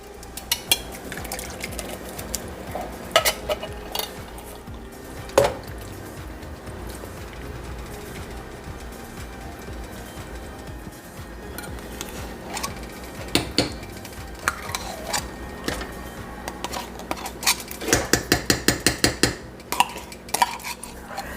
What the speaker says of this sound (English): I'm going to go ahead and add my tomato sauce paste and diced tomatoes